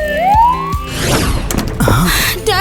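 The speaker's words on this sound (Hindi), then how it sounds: "एम्बुलेंस पहुँच चुकी है" An ambulance siren wails as the vehicle arrives, its rising and falling tone loud and close at first, then blurring into a rush of traffic and street noise before the siren sweeps back up at the end.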